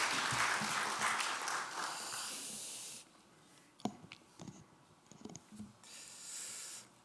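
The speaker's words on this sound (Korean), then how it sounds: "나오실 때 우리 큰 박수로 우리 환영하도록 하겠습니다" Church congregation claps to welcome the pastor, a dense burst of applause for about three seconds that drops off into scattered faint taps and rustles, then swells again briefly at the end.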